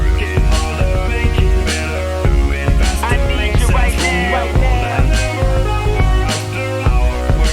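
Hip-hop beat built from a layered arranged sample with an a cappella vocal over it, a steady loud loop with punchy drums, deep bass and melodic layers throughout.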